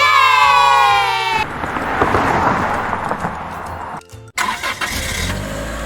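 An ice cream van's engine turns over and runs with a loud, broad rumble, preceded by a bright tonal jingle-like sound and cut briefly before resuming.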